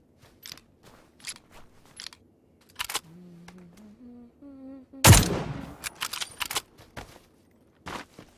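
Gunshots in PUBG, the battle royale game, ring out as sharp isolated cracks spaced a second or so apart, with a louder burst of rapid fire in the middle and a brief hummed voice between shots.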